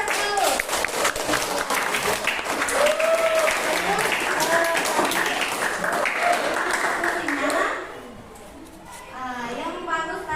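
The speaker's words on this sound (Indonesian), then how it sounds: "Berikan aplaus dulu." A classroom breaks into loud, sustained clapping for the winning group, with voices and cheers mixed in before the applause fades and a voice speaks.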